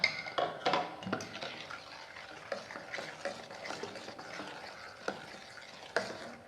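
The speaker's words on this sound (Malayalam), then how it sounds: "എന്നിട്ട് നല്ലതായിട്ടൊന്ന് ഇളക്കി കൊടുക്കണേ" A spoon stirs blended tender coconut into a pudding mixture in a pan, with soft, irregular scrapes and faint sloshing, quiet and close with no talking.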